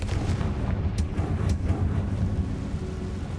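A Confringo blasting spell in Hogwarts Legacy sets off a burst of heavy booming explosions with sharp cracking impacts. It is loud and rumbling throughout the short stretch, with no voice over it.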